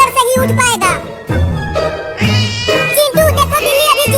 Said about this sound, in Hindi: चिंटू देखो, बिल्ली अभी जिंदा है